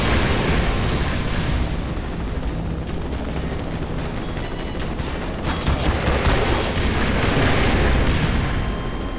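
Heavy energy-weapon fire from the Tau Cannon in the video game Black Mesa, a dense, loud continuous roar of blasts and booms with crackling bursts throughout.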